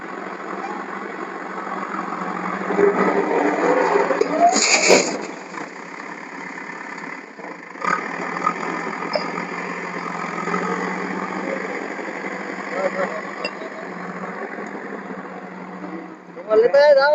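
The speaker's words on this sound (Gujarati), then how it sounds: "બીજું ટ્રેક્ટર આવ્યું છે" A farm tractor engine idles in a field at steady mid level, a continuous rumble running the whole time with a short louder burst near the middle, while people talk over it.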